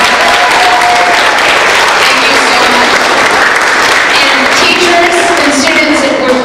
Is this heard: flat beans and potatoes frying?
no